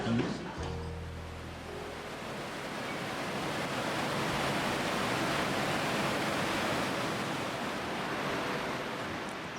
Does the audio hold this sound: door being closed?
no